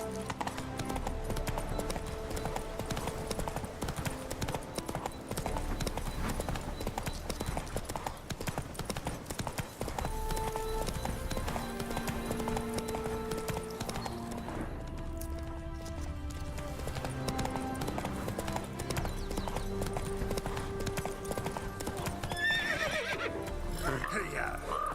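Roach the horse running, with continuous fast clip-clop hoofbeats and a whinny, heard under layered game music and ambience.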